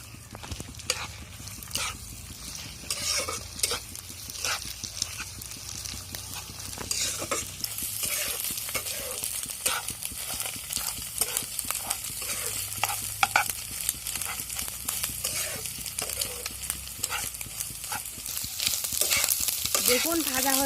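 Potatoes and two cracked eggs frying and being stirred in a pan for egg noodles, with a steady sizzle and repeated scraping, clattering strokes of the utensil throughout, growing busier toward the end.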